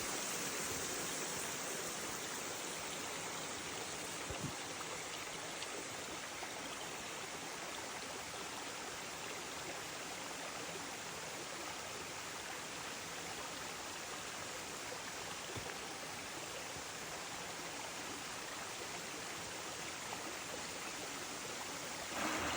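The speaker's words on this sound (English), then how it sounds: "there they are, the second set of falls" A broad, steady roar of falling water mixes with the rush of a flowing creek at the second set of falls along a river path at Lilydale Falls, unbroken and constant throughout with no voices.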